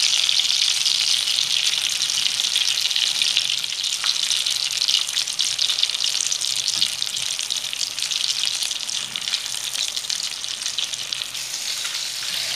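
Meatballs just turned in a pan sizzle steadily, a constant crackling hiss that holds fairly loud across the whole stretch with no voices.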